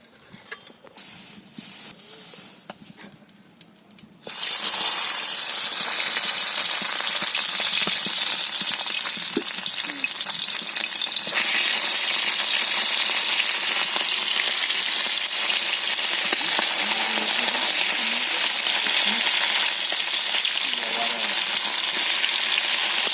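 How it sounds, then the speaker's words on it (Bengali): Fish coated in salt and turmeric drops into hot oil and fries with a loud, steady hissing sizzle that begins abruptly after a few seconds of quieter rustling and carries on unbroken. "মাছটা লবণ হলুদ মাখানো হচ্ছে, ভেজে নেবে এবার।"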